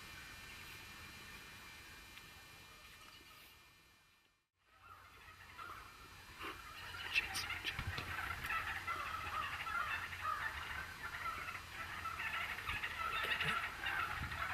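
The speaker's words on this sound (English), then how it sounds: "A lot of birds." Birds call outdoors on a Nebraska morning, with turkey-like gobbling and other chatter layered over a low rumble. The calls are soft and distant, and they grow busier after a brief dropout.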